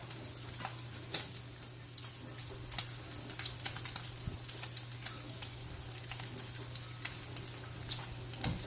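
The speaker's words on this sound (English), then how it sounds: "Now, let's stir this bacon here." Bacon frying in a pot as it is stirred, a soft steady sizzle broken by scattered sharp crackles and pops, close by with no talking.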